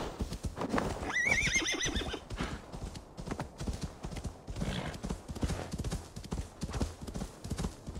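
Rapid clip-clop of hooves from a galloping horse in the video game Assassin's Creed: Valhalla runs steadily throughout, with a loud whinny near the start; busy and close, no voices.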